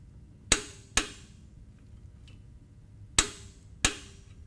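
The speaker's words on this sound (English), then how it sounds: "take our torque wrench and 5/8 inch socket and finish" Four sharp metallic clicks, two close together and then another pair a few seconds later, from a torque wrench with a 5/8 inch socket tightening the drain plug on a Harley-Davidson during an oil change; no talking.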